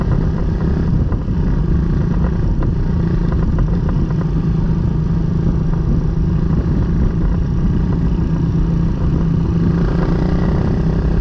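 Suzuki Raider 150 Newbreed motorcycle fitted with a 28mm carburetor, its engine droning loud and steady at high revs throughout, with a rough rumbling texture and no speech.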